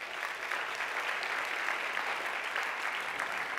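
Steady audience applause at a pitch-competition showdown, a dense, even wash of many hands clapping from a crowd, sustained throughout with no voices over it.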